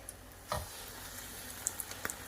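Cheese-stuffed chile relleno dropped into properly preheated oil in a pan, giving a brief hiss as it goes in, then faint crackles and scattered pops of frying, close by.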